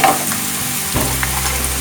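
Dragon chicken with cashew nuts sizzles in a hot pan while it is stirred, Kerala style, a close, constant frying hiss with scraping stir sounds and no voices.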